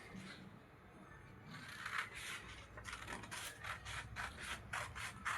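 Scissors cut through a paper pattern for a size 38 katori blouse, making close repeated crisp snipping and rustling strokes in a fairly regular rhythm, quiet and without talking.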